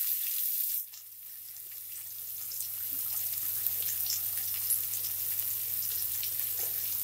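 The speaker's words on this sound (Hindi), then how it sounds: "अब डालेंगे हम बारीक काटा हुआ एक प्याज।" Finely chopped onion drops into a pan of hot oil for fish muri ghonto and settles into a soft, steady sizzle, faint and close, with a low hum underneath.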